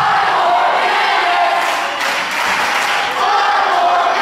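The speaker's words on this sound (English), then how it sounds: "Crowd chanting five more minutes," Loud wrestling crowd at an independent pro wrestling show chants in unison, a dense sustained roar with rhythmic swells, close and filling the space with no talk over it.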